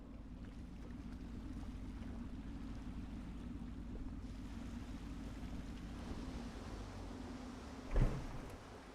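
A steady low engine hum and water wash from a boat underway in the video game Dishonored, continuous and even, with a brief louder thump near the end.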